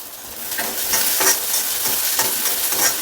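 Whole cumin seeds sizzle and crackle in a hot pan with oil and whole coriander, a steady close frying hiss with small pops and stirring scrapes throughout, no talking.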